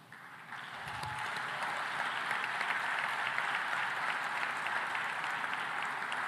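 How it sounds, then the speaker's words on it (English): Audience applause for competition finalists at a food-related forum, steady broadband clapping from a large crowd that swells in after a brief quieter opening and stays even and fairly distant to the end. "round of applause"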